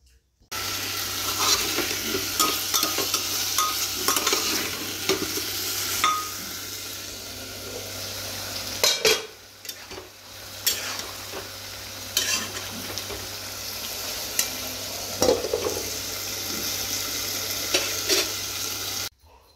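Food sizzles and fries steadily in a hot pan while being stirred, with scraping and clinking of the utensil throughout, close and fairly loud, with a brief lull midway.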